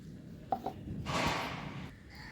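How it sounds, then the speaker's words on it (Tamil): Water poured onto a potted strawberry plant: a couple of small taps, then a soft, close splash of water into soil lasting under a second, quiet and alone. "இப்போ தண்ணி கொடுத்துடலாம்."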